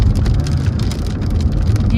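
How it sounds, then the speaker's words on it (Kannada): Rain drums continuously on a car roof in a forest area, a close, even patter of drops with a low rumble beneath and no talking. "ಏನ್ ಮಳೆ ಬರ್ತಿದೆ."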